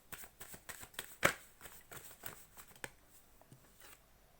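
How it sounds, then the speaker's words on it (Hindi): Tarot cards drawn from a deck, giving a quiet run of papery flicks and slides with one sharper snap in the middle, close and faint with no talk. "सबसे पहले मैं कार्ड्स निकाल लेती हूँ।"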